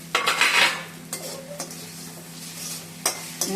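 Mango rice mixture being stirred and sautéed in a pan, with a loud opening burst of sizzling and scraping, then quieter frying broken by a few sharp clinks of the utensil against the pan, up close and without speech.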